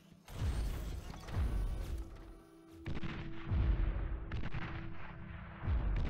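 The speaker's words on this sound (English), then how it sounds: "So these things are your late game artillery, a T2, and it shoots a little bit faster, I think" A late-game T2 artillery turret in Beyond All Reason fires repeated heavy booming shots at a steady rate, each with a deep thump and a mechanical rumble, alongside a sustained hum.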